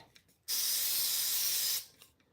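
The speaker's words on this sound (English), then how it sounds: "Spray some here to make it more." An aerosol can sprays in one steady hiss of about a second and a half, close and loud, while hair is being styled, with quiet room sound before and after.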